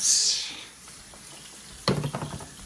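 Bacon done in the oven, sizzling on a pan in a home kitchen: a soft hiss fades at the start, then a sharp clatter and a few rattling knocks as the pan is set down.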